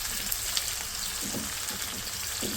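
Onions and spices frying in a pan, a constant close sizzle with a few soft clicks and scrapes of stirring, no voices.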